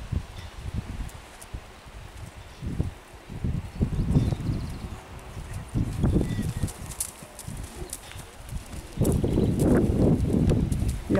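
A chestnut working horse walks on soft ground, its hooves thudding in an irregular clip-clop pattern with rustling around it, moderately close and growing louder toward the end.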